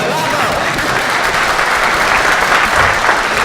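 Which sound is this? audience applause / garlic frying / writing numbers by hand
audience applause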